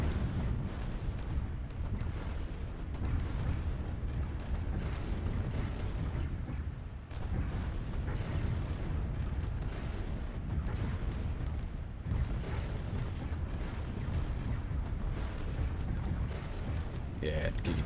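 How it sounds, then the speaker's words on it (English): Giga cannon and kinetic artillery firing in the space strategy game Stellaris, a dense, unbroken barrage of booming blasts and rumbling impacts at steady loudness, with talk over the top. "Giga cannon and kinetic artillery just doing all the damage."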